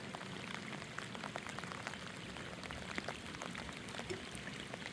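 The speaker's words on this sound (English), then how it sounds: "It's sunny, but yet it's raining." Steady rain patters and splashes onto water during a sunshower in Florida, heard from a kayak, a dense, soft crackle of drops with no voices, fairly faint throughout.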